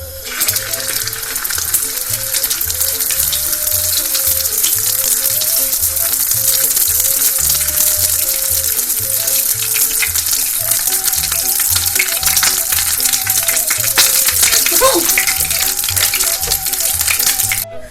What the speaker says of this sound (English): And now we are going to fry it.